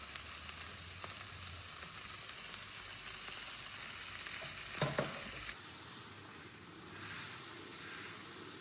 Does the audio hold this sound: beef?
yes